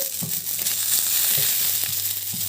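Lentils crackle and sizzle steadily in a hot pan after the gas is turned off, a close, even frying hiss with faint stirring scrapes and no voices.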